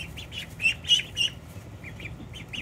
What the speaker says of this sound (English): in this brooder, we have the larger ducks